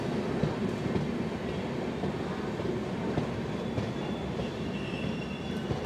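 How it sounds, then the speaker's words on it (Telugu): The Tirumala Express rolls out of Anaparthi station with a steady rumble of wheels on rails and faint squeals, evenly sustained and free of talk. "అనపర్తి నుంచి అయితే బయలుదేరిపోయింది మన ట్రైన్"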